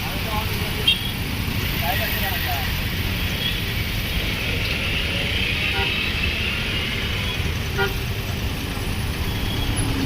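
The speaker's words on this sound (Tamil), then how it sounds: "ஜங்ஷனில் ஃபுல்லாக டிராஃபிக் வரும்" Continuous road traffic rumbles at a busy junction, with engines passing and a few short horn toots, while a voice speaks over the noise.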